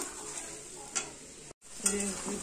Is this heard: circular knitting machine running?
no